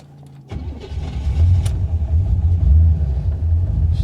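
A 1985 Chevrolet Corvette engine, a swamp-rescued parts car, starts and keeps running with a loud, steady low rumble close by after a brief quiet moment.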